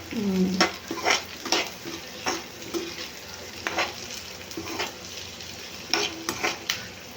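Carrots and other vegetables stir-fried in a pan for egg fried rice, with a steady sizzle broken by repeated scraping strokes of a spatula against the pan at an uneven rhythm, close and moderately loud.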